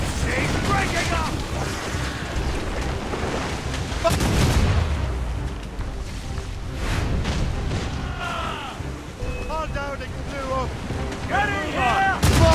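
Ship cannon fire during a naval battle in Assassin's Creed Rogue, heavy booms mixed with wind, ocean spray and creaking sails, loud and close, under shouted orders from the crew.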